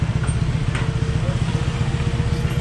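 Honda Click V2 scooter engine with a newly converted disc brake, running at a test ride, giving a close, pulsing putter with a rhythmic low throb and faint background noises.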